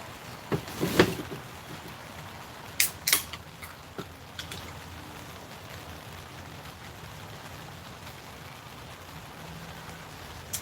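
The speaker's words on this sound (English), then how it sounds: "Can you hear the rain, June?" Rain patters steadily on top of a tarp, a soft, constant hiss broken by a few sharper knocks and taps, with no one speaking.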